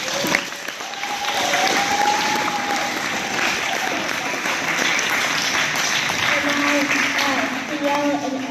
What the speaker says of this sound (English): Can we give these girls one more round of applause?